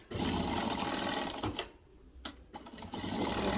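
A sewing machine stitching a fold of ribbon-threading lace onto a cotton dish towel, running in a fast steady whir, pausing briefly, then starting again in short bursts, close and clear, with no voices.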